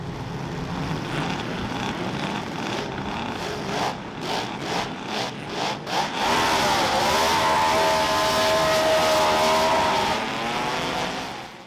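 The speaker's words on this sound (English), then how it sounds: "What an absolutely glorious sound that BRM V16 makes." A BRM V16 racing car engine at a historic motor race meeting screams past, first as a pulsing series of revs, then rising to a loud, sustained high-pitched wail before fading slightly at the end.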